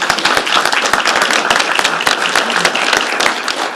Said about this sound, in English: Let's give Steve a big round of applause.